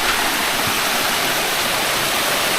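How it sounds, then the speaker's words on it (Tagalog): Small fresh waterfall in Palawan pouring steadily, a dense continuous rush of falling water, close and loud with no voices. "Fresh mini falls."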